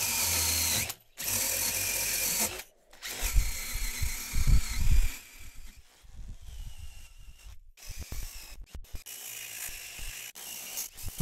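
A very sharp 30mm brad point bit bores into wood for DIY speaker stands, a loud power drill whirring in bursts with short pauses between runs, and the bit chattering and grinding through the cut.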